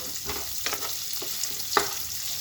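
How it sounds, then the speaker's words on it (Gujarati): Onions sauté in a pan with spices that have already been toasted pink for a Punjabi kaju capsicum masala. A continuous close sizzle runs throughout, broken by several distinct stirring scrapes. "એમાં સૌપ્રથમ આપણે ડુંગળી નાખીશું અને ડુંગળીને થોડી સાંતળવા દઈશું।"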